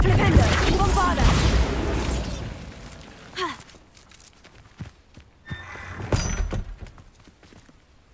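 A Bombarda spell blast in Hogwarts Legacy, a loud burst in the opening seconds of a cellar fight, followed by quieter thuds, a pop and a bright chime.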